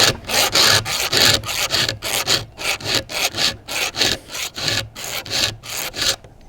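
A chainsaw chain is sharpened by hand with a file, making a steady series of close, loud rasping strokes in an even back-and-forth rhythm, alone without talk.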